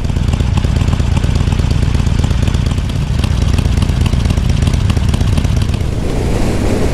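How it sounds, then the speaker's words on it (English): A stock 2021 Harley-Davidson Sportster 48 1200 V-twin runs steadily at highway speed in fifth gear, a loud, continuous low engine drone mixed with wind rush, with no voices. "Sounds relatively nice for a stock bike."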